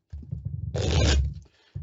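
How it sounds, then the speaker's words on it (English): A deck of cards is shuffled once, a quick close riffle with a brief papery rush that stops sharply, with no talking. "Let me just shuffle the cards again"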